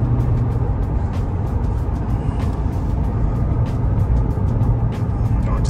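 A 2021 Chevrolet Corvette C8 sports car drives along steadily, its engine and road noise a constant close rumble with faint clicks above, and no voices.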